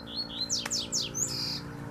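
A coleiro, the double-collared seedeater, sings a quick series of bright, clear whistled notes and chirps, close by and fairly loud over quiet background.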